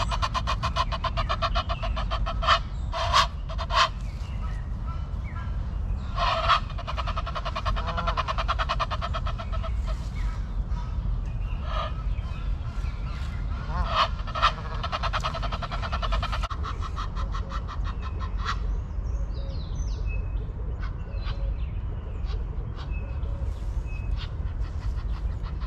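Harsh, honking Egyptian goose calls come in scattered bursts over steady low background rumble, some louder and closer, others fainter.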